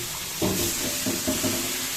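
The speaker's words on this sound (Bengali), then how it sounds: "রুই মাছ ভাজা চলছে" Rohu fish pieces fry in a hot pan with oil, giving a steady sizzling hiss with a few soft stirring touches, close and even throughout.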